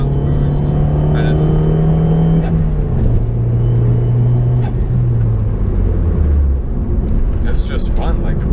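Dodge Dart 1.4 turbo with a Garrett turbo running 22 psi boost, heard from inside during daily driving: a steady loud engine drone and road rumble with a pitch that rises and falls through shifts, lasting throughout.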